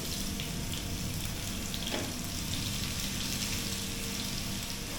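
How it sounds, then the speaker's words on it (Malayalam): Garlic fries in hot oil for a dal curry, a low, steady sizzle and crackle that continues evenly without a break and without speech. "നമുക്ക് വെളുത്തുള്ളി ചേർക്കാം വെളുത്തുള്ളി ഇട്ടാൽ അതൊന്ന് മൂത്ത് അപ്പം നല്ലൊരു ഫ്ലേവർ വരും"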